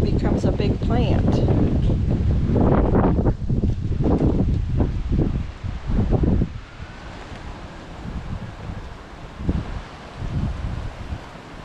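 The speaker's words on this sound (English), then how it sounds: "Wow, this wind is really kicking." Strong wind gusting outdoors while potting papaya and asparagus plants, loud buffeting rumble hitting the microphone in heavy bursts that ease into lighter gusts, with a person speaking through it.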